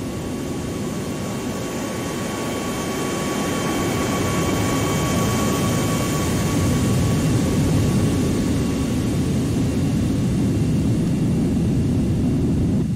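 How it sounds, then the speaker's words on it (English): A serviced airliner departs in the AirportSim ground-handling game, a loud jet engine roar with a steady whine that swells gradually over the whole stretch. "So the plane that we have serviced just departed."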